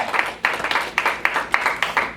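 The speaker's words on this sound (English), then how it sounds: "Clap your hands for her." Steady rhythmic hand clapping at a church service, a string of sharp claps roughly every quarter second, close and fairly loud with no talking over it.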